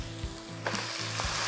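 Tomato and onion sauté in oil in a pan, a loud continuous sizzle close by with a few soft stirring knocks.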